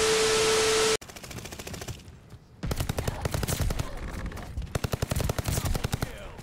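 Grease gun fire in the video game Call of Duty Vanguard comes as rapid automatic bursts, loud and close, broken by short pauses, with game noise around it; a tone sounds at the very start.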